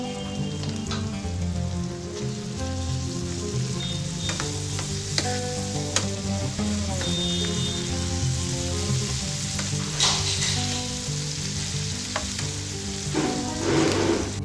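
Onion pieces with turmeric frying in a pan, a loud, dense crackling sizzle like rain on a surface, with spatula scrapes and clacks throughout and no talking.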